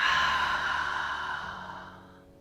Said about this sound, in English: Deep breath in. Open mouth, exhale.